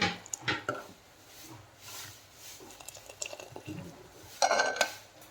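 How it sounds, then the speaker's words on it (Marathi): Coriander being stirred into boiling chicken biryani gravy, with close spoon and pot clatter, scraping and soft stirring through the clip, and a louder clatter near the end. "कोथिंबीर थोडीशी टाकते आणि छान मिक्स करून घ्यायचं आहे आणि एक उकळी येऊ देते"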